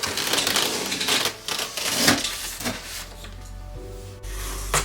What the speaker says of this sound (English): So this is what's happening as I open the box.